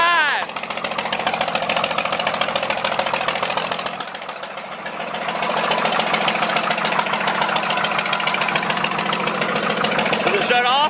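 A John Deere 4040 tractor's diesel engine runs steadily with a dense, rattling idle, dipping briefly in the middle before settling back to a constant rumble that fills the whole stretch.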